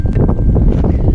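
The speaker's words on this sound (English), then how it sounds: "it's getting really windy" Strong wind roars across a Scottish mountain ridge on Beinn Alligin in Torridon, a loud continuous buffeting rumble against the microphone.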